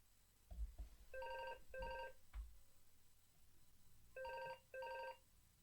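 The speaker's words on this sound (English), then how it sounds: "Why does the phone keep ringing?" A telephone rings in two paired bursts, then falls silent briefly before another pair of rings, each burst a clear electronic warble standing out over a low background with a few thumps.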